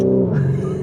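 Lamborghini Urus SE SUV engine revving up a canyon road, a loud, steady low drone that rises slightly in pitch partway through, heard close and alone.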